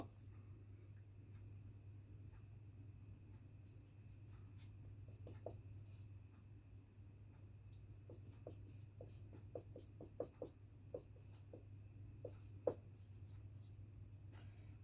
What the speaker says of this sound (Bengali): তা আমি এটা লিখে দিচ্ছি।